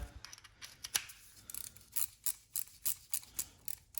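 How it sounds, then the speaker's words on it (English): Small handheld palm ratchet being turned, producing quiet rapid clicking bursts in short rhythmic spurts, close up with no voices, growing more regular toward the end. "So a little palm ratchet there."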